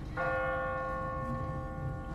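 A church bell tolls in a bell tower in The Walking Dead video game, one sustained ringing stroke that hangs and fades steadily across the clip.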